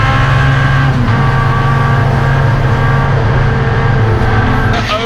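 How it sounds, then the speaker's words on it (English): Touring cars racing nose to tail at Goodwood Revival, loud sustained engine roar with layered tones from several cars at once, holding steady at close range with a slight shift near the end. "It's cracking to watch these cars being raced so close."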